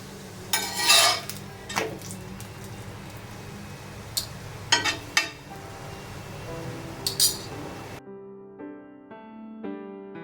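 Thalipeeth roasting on a pan with oil and ghee, heard as scattered metallic clinks and scrapes of a spatula against the pan over a low sizzle, close by, with a brief music sting at the end.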